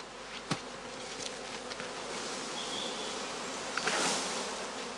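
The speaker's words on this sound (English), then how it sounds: "In a part of the Marschhorst quadrangle away from the swarming activities, the beekeeper has assembled empty skeps" Honeybees swarm near a beekeeper's skeps in a Marschhorst quadrangle, a dense continuous buzzing hum with a few individual bees passing close and briefly louder, quiet overall.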